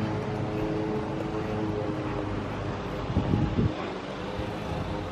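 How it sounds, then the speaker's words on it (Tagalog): Steady wind roars and buffets against the microphone throughout at Briksdalsbreen glacier in western Norway, with a brief louder gust near the end. "Ma-breezy yung hangin."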